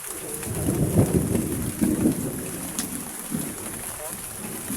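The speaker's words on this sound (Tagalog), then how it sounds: "Parang maulan pa ata." Steady rain pours onto surfaces outdoors while low thunder rumbles roll through, swelling and fading under a constant wet hiss.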